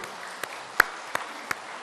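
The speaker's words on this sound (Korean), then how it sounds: "박수까지 쳐주시네." Quiet, sparse hand claps from a church audience sound over faint room noise, a few isolated claps rather than full applause.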